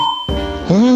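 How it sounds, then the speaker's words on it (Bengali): A bell rung at a street food stall selling garlic-sauced beef and mutton gives one short bright ding at the start, followed by louder mixed stall noise and voices. "ঘন্টাটা বাজিয়ে দিন।"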